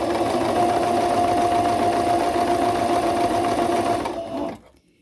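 Sewing machine stitching the high neckline of a tank top, a steady close mechanical whir running evenly for about four seconds before slowing and stopping.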